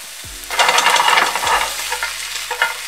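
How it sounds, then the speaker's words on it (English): Vegetables sizzle in olive oil in a frying pan for a rice and curry shrimp side, a steady close frying hiss with a few stirring scrapes and thumps, no talking. "So this is in 2 tablespoons of olive oil, and I'll add just a wee bit more olive oil to the pan."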